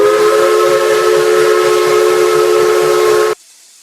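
An American steam whistle from the RO-Scale Sandbox game blows one loud, sustained chord-like blast for about three and a half seconds, then cuts off abruptly into near silence.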